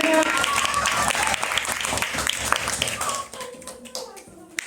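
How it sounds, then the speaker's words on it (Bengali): An audience claps loudly for the winning team at a quiz competition, dense applause that thins out and fades to scattered claps in the last second. "উইনিং টিম হচ্ছে টিম সি তো তাদের জন্য একটা জোরদার হাততালি"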